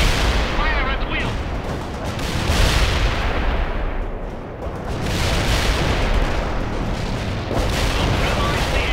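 Heavy armor fire in the World in Conflict video game: a dense, continuous barrage of booming cannon shots and rattling gunfire, loud and sustained, with a brief lull mid-way before the firing swells again.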